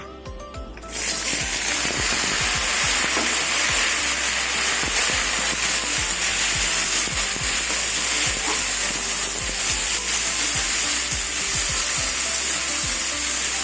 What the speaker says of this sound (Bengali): আমি ডুমুরটা একটু তেলে ভেজে নেব